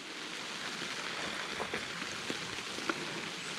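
Rain falling on a summer forest canopy, a steady soft hiss of drops on leaves with occasional louder individual drips, moderately faint and even throughout with no voices.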